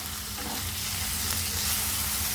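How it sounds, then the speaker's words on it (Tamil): Two medium tomatoes frying in a pan with ginger-garlic paste for a hotel-style paneer dish, giving a steady, even, close sizzle that holds at a constant level throughout with no voices. "இஞ்சி பூண்டோட பச்சை வாடையெல்லாம் போனதுக்கப்புறம் தக்காளி சேர்த்துக்கிறேன்."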